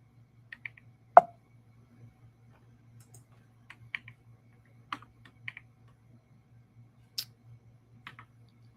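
Keystrokes on a computer keyboard made for a different operating system, heard as scattered, quiet clicks in short bursts over a steady low hum, with no one talking.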